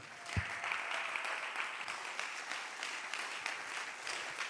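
A church congregation claps in sustained, dense applause, steady and fairly distant throughout.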